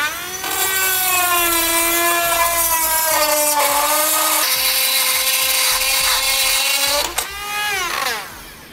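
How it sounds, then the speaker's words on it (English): A rotary tool cuts a hole in the frame of a 2011 Honda CR-V during a trailer hitch installation, giving a loud, steady high-pitched whine that shifts in pitch as it bites, then winds down near the end. "We'll take our rotary tool here."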